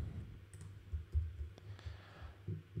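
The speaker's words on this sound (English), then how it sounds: "Now, if I just type something like L" A few soft, sparse clicks from a computer keyboard as a letter or two is typed during a lecture demo, quiet and close with faint room hum.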